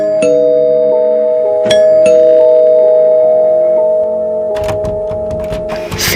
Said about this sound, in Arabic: وفجأة حد رن الجرس